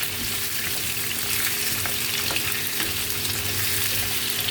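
Food stir-frying in a hot pan, a loud dense continuous sizzle with faint scraping of a utensil, close by and without any talking.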